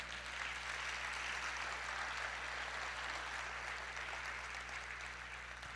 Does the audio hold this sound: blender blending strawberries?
no